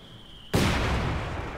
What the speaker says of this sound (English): Mortar trying to get some rounds in